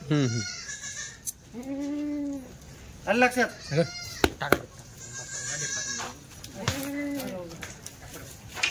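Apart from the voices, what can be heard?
goat bleating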